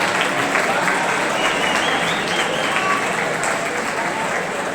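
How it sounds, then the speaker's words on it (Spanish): Dense, sustained applause from a concert audience in a hall in Zaragoza, loud and continuous throughout, with crowd voices mixed in. "un aplauso para Juan, por favor."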